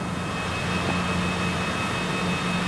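A Cessna in the video game Microsoft Flight Simulator taxis with a steady, even engine drone and a faint whine above it, constant and close with no voices.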